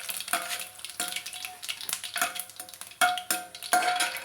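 Cumin, mustard seeds and two broken dried red chillies fry in oil for a soya chunk and tomato curry, crackling and sizzling under repeated spoon-scraping strokes that arrive roughly every half second.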